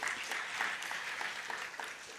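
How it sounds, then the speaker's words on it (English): A conference audience at a plenary session gives the speakers a round of applause, many hands clapping in a steady, moderately loud patter that carries on without pause. "Can we get one round of applause again for all the speakers"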